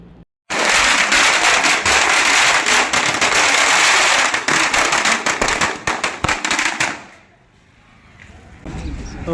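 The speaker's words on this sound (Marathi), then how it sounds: "समर्थकांनी फटाक्यांची आतषबाजी करून एकच जल्लोष केला आहे" A long string of firecrackers bursts in rapid, loud crackling volleys at a village celebration in Nagarsul, Yeola taluka, after a sarpanch election, thinning to scattered pops before fading, with crowd noise around.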